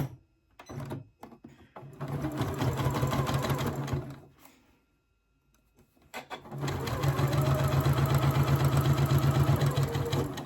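Sewing machine stitching darts on fabric for a boho bag, running in two sustained bursts of steady mechanical whirring separated by short pauses and handling noises, close and fairly loud.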